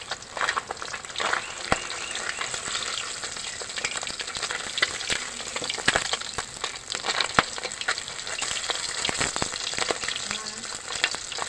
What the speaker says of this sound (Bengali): আমার মাছ ভাজা হয়ে গেছে, মাছগুলো তুলে নেবো